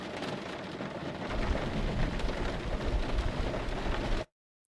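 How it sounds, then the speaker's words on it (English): Loud, dense rain with low rumbling thunder in the X-Plane 12 flight simulator swells after the first second and keeps up steadily, then cuts off abruptly to silence near the end. "That rain sounds quite loud."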